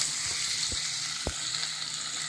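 Prawns coated in turmeric powder fry in a pan for a Kerala-style chemmeen roast, a steady close sizzle broken by a few soft utensil knocks, with no voices.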